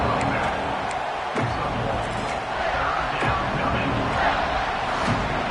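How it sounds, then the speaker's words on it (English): A large stadium crowd at a college football game roars and cheers steadily, a dense wash of voices filling the space with constant excitement. "the crowd coming to life here, trying to help this defense down in the red zone."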